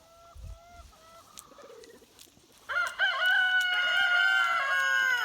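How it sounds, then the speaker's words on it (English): Roosters crow on a farm porch, a faint first call followed by a loud, close, drawn-out cock-a-doodle-doo that dominates the second half, with soft clucks and background noise earlier. "So I've got stereo rooster"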